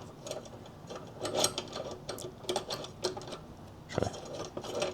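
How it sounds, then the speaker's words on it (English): A 5mm tool loosening and backing out a bolt on a Kawasaki KLR 650 motorcycle during headlight replacement, with close, uneven clicking and ratcheting ticks, small metallic scrapes and a sharper clack near the end. "I've just got a 5mm on mine. Just gonna break that loose"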